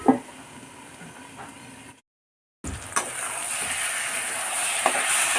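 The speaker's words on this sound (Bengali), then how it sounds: "এবার আমি এটা হালকা আঁচে একটু সামান্য কষিয়ে নেব।" Spice mixture sautéing in a pan over low heat for a curry, a steady soft sizzle and frying hiss with a brief break, then louder continuous sizzling with occasional stirring knocks.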